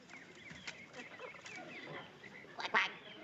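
A person imitates a duck, voicing quick nasal quack calls in a comedy scene, moderately close, with a louder pair near the end.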